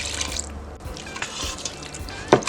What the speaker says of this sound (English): And then we're going to add in a 1/2 cup milk.